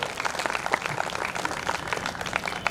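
Lively crowd applause at a gurukul festival gathering, dense rapid clapping from many hands, close and loud throughout with no speech.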